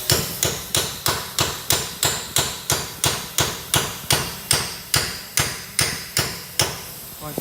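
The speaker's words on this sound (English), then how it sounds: "I've been whacking it with a hammer, just like this" A hammer strikes a wheel bearing on a 2013 Ford Taurus in a rhythmic series of about fifteen sharp metallic blows. They come evenly spaced, loud and close, each ringing briefly before the next.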